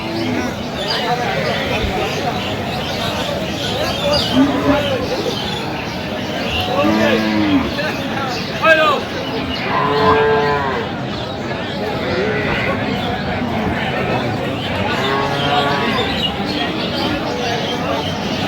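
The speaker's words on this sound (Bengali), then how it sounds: "একটি গাভী বাছুর দেখছেন" Several dairy cows and calves at a farm in Sylhet moo in drawn-out calls, some close and some farther off, while people talk in the background throughout.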